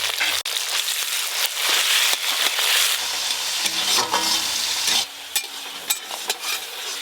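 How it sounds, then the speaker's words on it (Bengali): Chopped tomato and salt go into boiled dal with lightly fried ginger, setting off a strong, steady sizzle and bubbling with scattered stirring clicks, close and without talk, the sizzle softening toward the end. "এবার ওপর দিয়ে টমেটো কুচি দিয়ে দেবো। টমেটো কুচি, লবণ,"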